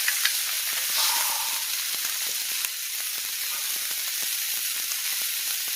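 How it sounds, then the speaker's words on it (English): Tomahawk steak sizzles and spatters steadily on a hot Camp Chef griddle, a constant close hiss with small pops and crackles throughout. "hear that sizzle?"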